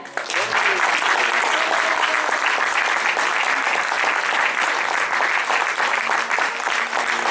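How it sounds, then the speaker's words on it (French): Steady, loud applause from a large audience at a teen cabaret show in Chanteloup, dense clapping sustained throughout without a break. "Je vais vous demander d'applaudir bien fort"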